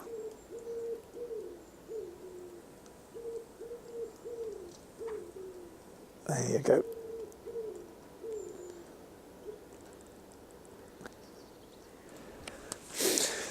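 A wild owl hoots in a garden on a wintry March evening, a run of soft, repeated calls at moderate distance, with a few brief louder knocks and a short spoken remark near the end.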